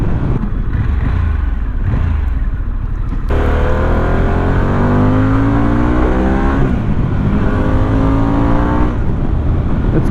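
Motorcycle engine revving hard under acceleration on a demo ride. Loud, close and continuous, the pitch climbs in repeated sweeps as the rider runs up through the revs and shifts gears, with a sharp surge of power partway through.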